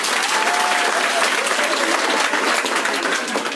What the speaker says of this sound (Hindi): तो दोनों के लिए बहुत जोर से ताली बजाओ सबके सब।